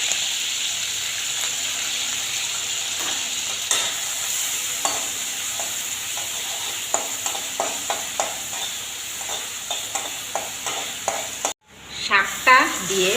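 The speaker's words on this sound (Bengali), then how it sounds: "তেল গরম হয়ে গেছে, পেঁয়াজ কুচি, রসুন কুচি আর কাঁচা লঙ্কা" Chopped onion, garlic and green chilli sizzling in hot mustard oil, a steady bright frying hiss with repeated spatula scrapes and taps, then a sudden loud burst of sputtering as more goes into the pan near the end.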